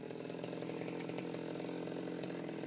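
Chainsaw running steadily at full throttle while cutting through a branch of a jackfruit tree outdoors, a loud continuous buzzing engine drone with no pauses and no talk.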